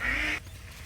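A caught domestic goose gives one loud, nasal honk up close, lasting under half a second before cutting off to quiet.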